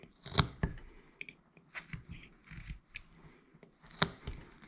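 A knife whittles wood while shaping a carved face up to the nose, giving short scraping cuts and rasping strokes in irregular bursts, close and fairly quiet.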